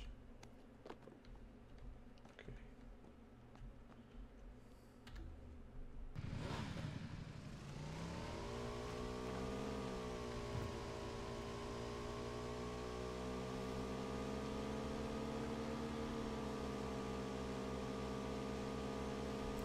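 Motorcycle engine in the game PUBG starts up partway through and then holds a steady, loud drone with faint pitch shifts as it rides on, with no voices over it.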